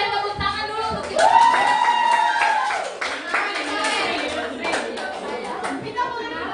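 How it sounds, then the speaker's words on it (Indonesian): A group of people, children among them, claps hands together in a short burst, with chatter and raised voices mixed in and a sustained vocal tone drifting over the clapping. "berikan tepuk tangan dulu untuk kita"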